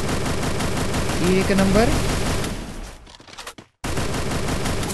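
Sustained automatic gunfire in the mobile battle royale game Free Fire, a dense rattling burst that runs loud for several seconds, briefly cuts out and resumes, with players talking over it.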